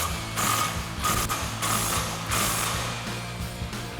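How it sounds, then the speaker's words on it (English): A ratchet tightens a suspension bolt on a 2020-2026 Silverado 2500 during a Rancho front leveling kit install, giving repeated bursts of close, loud clicking pawl strokes with short pauses between them. "we're going to tighten down our bolt and apply tension."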